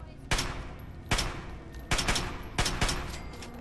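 Gunfire in Fallout 3, four sharp, loud shots spaced roughly a second apart, each a sudden crack followed by a brief decaying tail, close and distinct against a quiet background.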